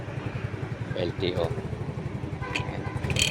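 A motorcycle engine idles while warming up on a street in Pasay, a low steady chugging heard nearby as someone talks over it.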